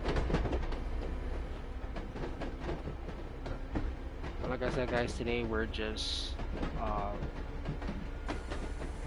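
An MBTA commuter train heading to Worcester in a train simulator game, a steady rolling rumble with rhythmic clicking of wheels on rail joints, continuous under someone talking.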